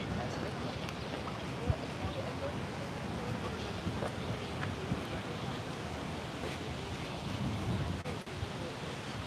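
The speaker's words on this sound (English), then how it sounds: "That's how windy it is." Strong wind blows by the water in downtown San Francisco, a constant broad roar mixed with waves and surf washing nearby, steady and moderately loud throughout.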